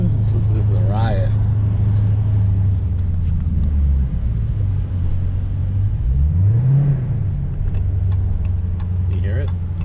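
Dodge Challenger 392 V8 rumbling through Dynomax Race Bullet mufflers, a deep steady idle with a brief rise in revs midway, close and continuous, with faint background sounds over it.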